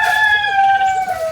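A farm rooster gives a loud, close crow in one sustained call that fills the moment.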